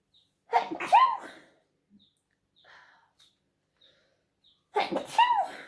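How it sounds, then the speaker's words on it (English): Two sharp sneezes, one near the start and another about four seconds later, separated by quiet breathing and faint rustles. "These are my morning sneezes."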